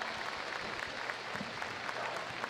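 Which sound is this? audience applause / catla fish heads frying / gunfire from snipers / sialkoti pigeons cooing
audience applause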